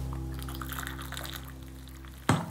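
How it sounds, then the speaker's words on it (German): Hot water is poured into a bowl for Indian flatbread dough, a soft, brief trickling pour over a low steady hum, ending in a short knock. "dann kommt hier heißes Wasser drin."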